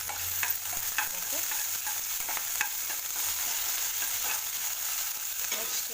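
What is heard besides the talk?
sautéing green chili and curry leaves in a pan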